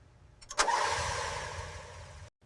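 A 1975 Toyota Corolla engine cranks briefly, catches on the first try and settles into a steady running idle, close and moderately loud before stopping abruptly, with no talking.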